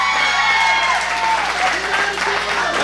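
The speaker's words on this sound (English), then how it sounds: "Boar getting a roar from this crowd here at the Mid-Atlantic Sportatorium." A wrestling crowd at the Mid-Atlantic Sportatorium roars and applauds loudly and continuously, with a commentator's voice running over the din.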